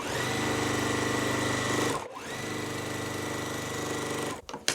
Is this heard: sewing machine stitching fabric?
yes